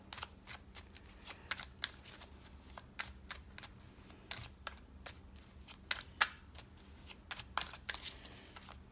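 Tarot cards being shuffled to draw clarifiers, a run of quick crisp riffling snaps and flicks with an irregular rhythm, close and fairly quiet over a low steady background hum.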